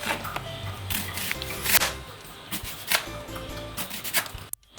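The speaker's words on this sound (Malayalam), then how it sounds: "ഇത് രണ്ടും റൗണ്ടായിട്ട് സ്ലൈസ് ചെയ്ത് മുറിക്കുക." A knife slicing onion into rounds, giving a series of sharp crisp cuts and board taps at an irregular rhythm, close and fairly quiet, with no talking.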